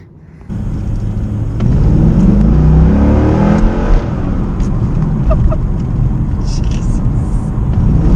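A 1998 Corvette C5 with its LS1 V8 fires into a loud, close rev that climbs and holds as a steady, heavy roar, dense low rumble throughout, briefly swelling before settling into a sustained drone.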